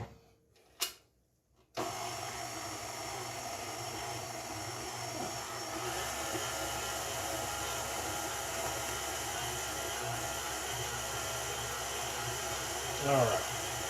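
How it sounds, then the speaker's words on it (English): Electric mixer kneading sourdough bread dough, a steady whirring motor hum that holds on evenly after a brief clatter at the start, with a faint rise near the end. "And of course you can do all this with that mixer."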